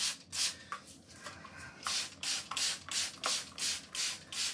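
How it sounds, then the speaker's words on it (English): A motorized scrub brush works soapy liquid across a surface, producing quiet rhythmic swishing strokes that repeat back and forth in a steady cadence, close up and without talking. "So the scrubbing brush will be able to use the liquid and the soap that is on here to do its job"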